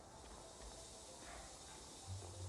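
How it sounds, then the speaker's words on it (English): Faint, steady hiss of spray across purpleberry trees in an orchard in The Outer Worlds, a continuous airy wash with no other clear sounds. "What's that hissing noise?"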